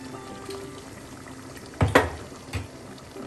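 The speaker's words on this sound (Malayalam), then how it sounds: "ഇനി അധികം നേരം ഇട്ട് തിളപ്പിക്കേണ്ട" Chicken Mappas curry simmering in a pot, a soft bubbling with a couple of louder pops and gurgles over a quiet background.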